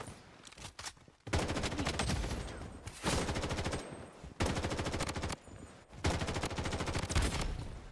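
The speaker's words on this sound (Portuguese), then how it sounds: "O cara tá trocando tiro, ó." Rapid bursts of automatic gunfire from an M4A1 in the game Blood Strike, coming in several long sustained volleys separated by brief pauses, loud and dense.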